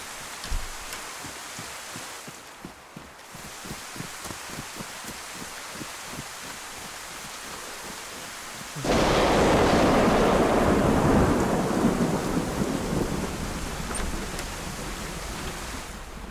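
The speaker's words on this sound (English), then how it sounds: "in the storm" A thunderstorm in the video game DayZ on the Livonia map: patter of steady rain, then a loud rolling thunderclap that bursts in partway through and slowly rumbles away under the continuing downpour.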